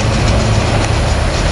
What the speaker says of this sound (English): Here we got the train to Norristown Transportation Center.